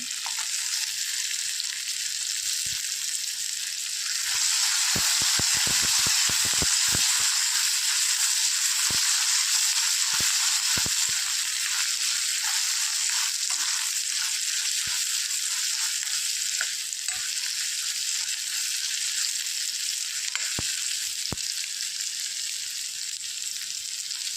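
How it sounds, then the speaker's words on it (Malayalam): Garlic and dried red chillies fry in a pan with a loud, continuous, close sizzle and hiss, broken now and then by faint pops and scrapes. "വറ്റൽമുളകൊക്കെ മൂത്ത് വരാൻ തുടങ്ങിയിട്ടുണ്ട്"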